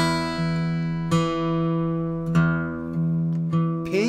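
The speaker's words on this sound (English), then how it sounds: "So I'm pinching the sixth and first string together." Fingerpicked acoustic guitar playing a pinch pattern, sixth and first strings plucked together followed by three thumb-played bass beats, a few clear attacks ringing over a sustained low drone, close and moderately quiet with no voices.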